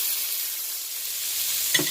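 Onions, garlic and tomatoes sauté in melted butter, giving a steady soft hiss of sizzling throughout with a brief stir or scrape near the end; no voices.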